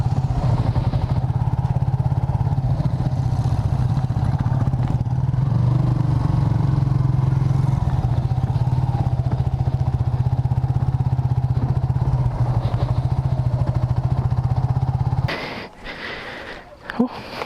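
Motorcycles arriving and being parked on a trip to Tatlong Bundok in San Fabian, Pangasinan: a loud, close engine drones steadily for about fifteen seconds, then cuts off, leaving quieter rustling and a few knocks.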